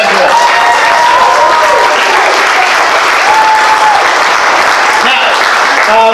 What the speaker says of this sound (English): Another big round of applause for all your graduates.